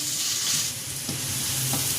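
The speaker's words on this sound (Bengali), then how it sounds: "এখন দিয়ে দেবো পেঁয়াজগুলো। পেঁয়াজগুলো ভেজে নেব।" Onions frying in oil in a pan, with a steady bright sizzle throughout and a few soft stirring scrapes, close and continuous with no talking.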